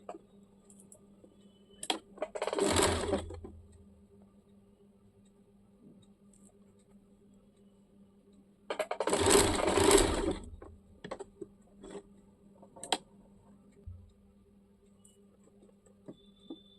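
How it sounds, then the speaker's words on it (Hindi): A sewing machine stitches a folded churidar seam in two bursts of rapid, close mechanical whirring, each lasting a second or two. Scattered small clicks and taps come between the bursts in an otherwise quiet room. "इसी प्रकार दूसरे साइड का भी फोल्ड करके सिल लेंगे।"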